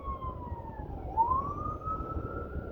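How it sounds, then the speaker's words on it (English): An ambulance siren passes faintly at a distance, a single wavering wail rising and falling over low road rumble, with no talk. "So there's an ambulance coming up."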